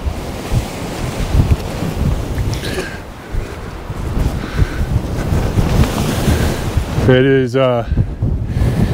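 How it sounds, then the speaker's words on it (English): Strong, gusty wind buffets the microphone on a cold Wyoming sandstone outcrop, roaring steadily with swells and surges throughout. Someone briefly speaks near the end. "it's below freezing today and very windy"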